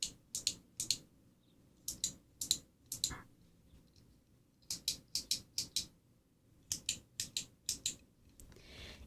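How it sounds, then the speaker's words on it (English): A small keyboard-like fidget toy is clicked in quick bursts of crisp, close keypresses, clustered in groups of three to five with brief pauses between, alone in a quiet room. "It's just a little fidgety, like keyboard looking thing that I have."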